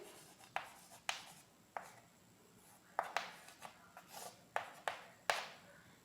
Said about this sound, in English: Now I want to rub this to draw the second case.